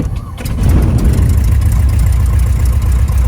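A small aircraft's piston engine catches and settles into a steady, loud low drone at about quarter throttle, with the propeller turning close by.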